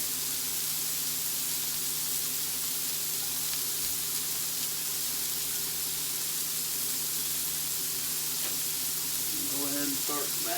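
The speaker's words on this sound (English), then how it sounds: "I like to let them sizzle for a minute." Teriyaki bacon smash burgers sizzle on a Blackstone griddle, a loud, steady hiss of frying fat that fills the whole stretch, with a brief voice-like sound near the end.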